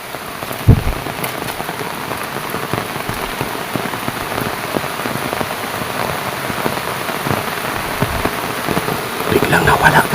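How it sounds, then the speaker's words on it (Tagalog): Heavy rain pours down steadily and loudly for the whole stretch, a dense, continuous hiss of drops striking surfaces close by, with a few louder splashes and knocks mixed in and no voices. "Sobrang lakas na yung ulan guys."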